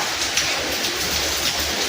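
Steady rain falls outside a home, a dense continuous hiss with no breaks, heard alone and evenly loud throughout.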